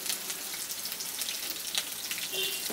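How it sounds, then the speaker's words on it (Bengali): Chopped onions sizzling in mustard oil in a kadai, a continuous close crackle and hiss of frying at a steady level. "এখন এই পেঁয়াজটাকে আমি কিছুক্ষণ ভেজে নেব, 2-3 মিনিট হালকা ভেজে নিচ্ছি।"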